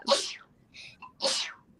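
Two sharp sneezes a second apart, close and fairly loud, with a softer short noise between them.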